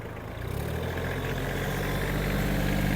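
An Iseki Geas 30 cab mini tractor runs with its rotary tiller attachment, giving a steady, even engine drone with low rumble that holds constant throughout, fairly close and without any talk.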